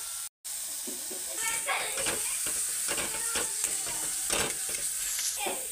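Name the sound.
cauliflower leaves frying and being stirred in a pan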